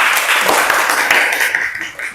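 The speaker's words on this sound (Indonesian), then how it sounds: "tepuk tangan dulu untuk kita semua" A classroom of students claps together in a short, dense burst of applause, loud and close, fading toward the end.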